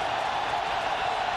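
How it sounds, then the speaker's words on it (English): Dense, steady roar of a stadium crowd at a 1998 Tennessee vs Alabama-Birmingham college football game, a broad continuous wash of cheering noise with no breaks. "Once again, the crowd really roaring down here."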